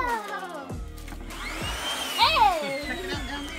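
A new vacuum cleaner whines steadily at close range while a family moves around it outdoors at a riverside campsite, with a brief higher squeal partway through.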